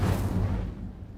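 Incendio fire spell cast in Hogwarts Legacy, a single heavy whooshing boom of flame that bursts loudly and then fades out over about a second.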